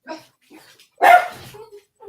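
A dog gives a short burst of barking, close and fairly loud, with a few softer yips around it and brief quiet gaps between.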